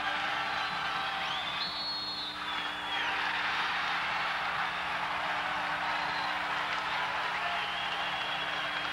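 A basketball crowd at a Pointers game roars and cheers after a dunk off a lob pass, a dense, sustained wall of crowd noise throughout with scattered shouts and whistles.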